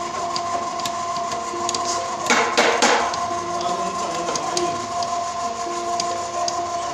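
Stand mixer fitted with a dough hook kneading flour and other bread ingredients in a mini bakery, giving a steady mechanical whir and rhythmic rubbing churn, with a louder knocking stretch partway through.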